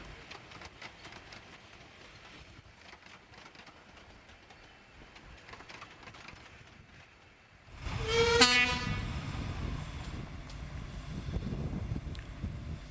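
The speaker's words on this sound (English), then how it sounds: "number 12 departs from New Romney with one of the last trains of the 20th century" Romney, Hythe and Dymchurch Railway locomotive number 12 departing New Romney: quiet station ambience, then a sharp whistle blast and a rising chuff and rumble as the miniature steam train pulls away close by.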